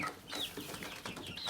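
Backyard chickens cluck and chatter excitedly, close and continuous, while pecking at bird feed, mealworms and a whole head of cabbage.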